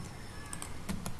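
Computer keyboard typing while coding a React Trello clone, a quiet run of soft key clicks with a couple of slightly louder taps near the end, alone with no talk.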